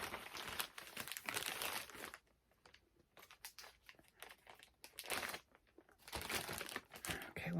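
Packing tape is peeled off a plastic comic book bag, producing close, loud crinkling and sticky tearing in long stretches with a quieter patch of scattered crackles in the middle and no talking.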